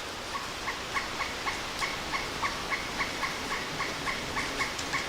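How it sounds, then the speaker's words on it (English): A pileated woodpecker calls in a steady, rapid series of sharp notes from a distance along a wooded river trail, with no talking over it. "Got a pileated woodpecker."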